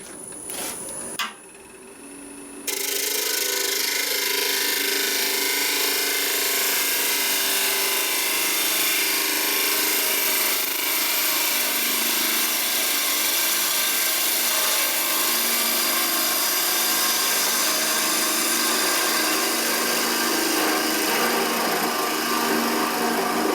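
A turning tool cuts a maple burl bowl spinning on a wood lathe: a loud, steady, close whirring hiss with a rough scraping texture runs unbroken after a brief quieter start.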